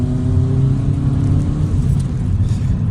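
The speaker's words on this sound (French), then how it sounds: "Hop, on va doubler ce vélo" A car drives along a road and passes a bicycle, its engine a steady, loud, close rumble and whir from inside the vehicle, holding even throughout with no talking.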